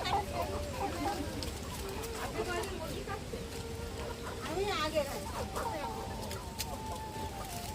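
Chickens in a village near Port Blair, South Andaman, cluck and chatter nearby in short repeated bursts, mixed with people talking over them.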